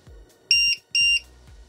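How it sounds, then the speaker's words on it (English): A LiPo battery checker with an alarm function sounds two loud, sharp electronic beeps in quick succession, each lasting about a quarter second, close and clear, with faint clicks around them. "The battery checker with alarm function."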